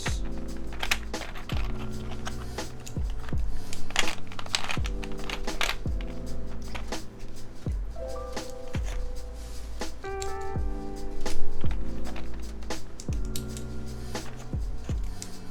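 Continuous typing on a mechanical keyboard fitted with Enjoy PBT Modern Jaw keycaps, giving dense, fast clacking keystrokes with steady rhythm and a few louder bursts, close and alone without talk.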